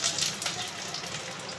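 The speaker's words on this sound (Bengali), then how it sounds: "দই পটল বানানোর জন্য আমরা আগেই পটলগুলোকে ভেজে নিচ্ছি।" Slices of pointed gourd (potol) fry in hot oil for dahi potol, giving a dense, bright, continuous sizzle that stays close and fairly loud for a moment.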